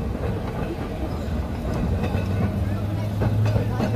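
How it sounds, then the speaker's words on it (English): A Blackpool tram rolls past during the illuminations, a steady low rumble with faint rail clatter that swells slightly toward the end, no other sounds standing out. "Do you know what? I do miss these trams."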